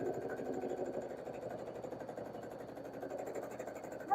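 A home sewing machine runs steadily during free motion quilting, a continuous close mechanical whir with a fast, even stitching pulse and no talking.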